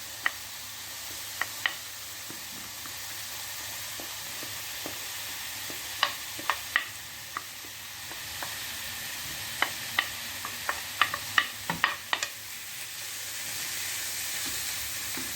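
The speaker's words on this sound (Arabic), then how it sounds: "حتى تسخن الزيت عاد ترميو البصل وتشحروها بهذيك الزويته" Onions fry in hot oil for an aubergine and vegetable gratin. A steady, soft hiss and sizzle runs throughout, broken by scattered clinks and scrapes of stirring, with no talking.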